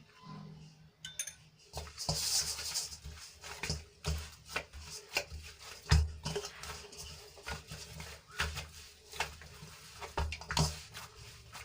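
Methi muthiya dough being kneaded by hand with a spoon of oil, giving soft squelching pats and wet slaps in an irregular rhythm, close and fairly quiet.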